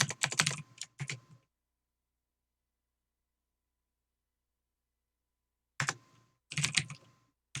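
Close computer keyboard typing in two short clusters of rapid clicks, separated by several seconds of silence, with no voices.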